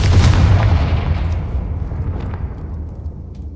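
Confringo spell explosion in Hogwarts Legacy: one loud, deep blast with a long, rumbling tail that fades steadily over a few seconds.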